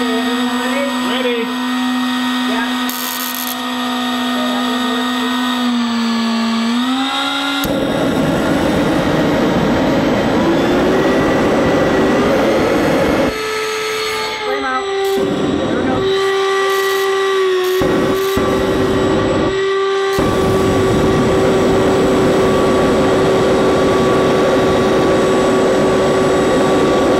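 An FT-Viggen electric ducted fan model jet fitted with an afterburner runs loud and close, a steady high whine that rises and shifts pitch, briefly cutting out several times near the end before resuming.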